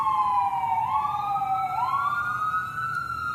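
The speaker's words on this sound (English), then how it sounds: "It's an ambulance." An ambulance siren passes through town, loud and near, with a wailing tone that sweeps up and down over a low road rumble.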